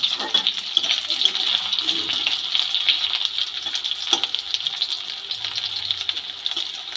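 Flat beans (shim) frying in a pan for a Bengali shim bhaji made with little oil, giving a steady, close hiss of sizzling with faint clicks of stirring and turning throughout.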